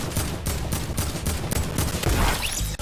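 Pump shotgun fire rings out in a video game as a rapid string of loud, sharp blasts crowds closely together over the whole stretch.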